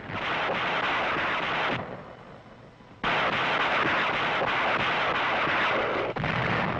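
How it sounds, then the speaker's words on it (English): Rockets being fired in World War II combat on Okinawa in 1945, loud sustained booming bursts and roaring discharges that briefly drop away before resuming at full strength. "Rockets were effective."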